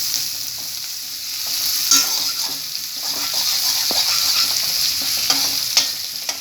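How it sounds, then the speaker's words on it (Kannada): Chopped onions fry with popped mustard seeds in hot oil, a loud, close, continuous sizzle broken by spatula stirring and scraping strokes, with scattered sharp crackles and no voices. "ಈಗ ಸಾಸಿವೆ ಸಿಡಿದಿದೆ, ಕಟ್ ಮಾಡ್ಕೊಂಡಿರೋ ಈರುಳ್ಳಿನ ಹಾಕೊತಾ ಇದ್ದೀನಿ"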